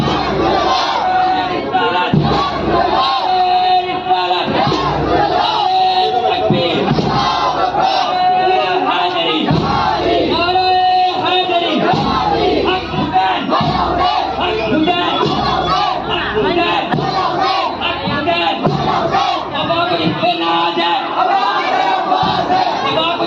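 A large crowd at a Muharram gathering roars back in unison after a takbir slogan call. The massed voices are loud and dense, forming a continuous wall of shouting with surging chants that sustains throughout.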